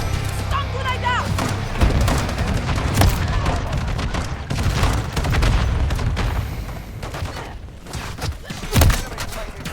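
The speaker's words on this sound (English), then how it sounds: "Stun grenade out!" A stun grenade goes off amid gunfire in a multiplayer shooter game, with a cluster of heavy booms and thuds among rapid shots, loud and close, while players talk over the action.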